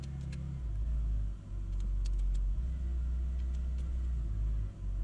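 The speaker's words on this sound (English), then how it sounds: "Start the engine." A Ford Mustang V6 idles steadily after starting, a loud, close, low rumbling drone with slight dips in level, heard alone without speech.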